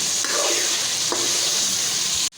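Bhuna qeema, minced meat roasting in oil as the oil separates, sizzles loudly and steadily while a spoon scrapes and stirs it in a few sweeping strokes, ending abruptly.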